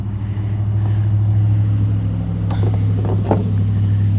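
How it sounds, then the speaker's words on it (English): Trucks rumble past near a lake, a steady loud low drone of engines and tires that swells slightly as they go by, with no talking. "You let these trucks go by."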